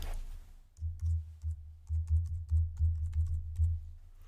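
Rapid clicking keystrokes on a computer keyboard as a country name is typed into a chart during a lecture, a close, uneven run of taps with no talking.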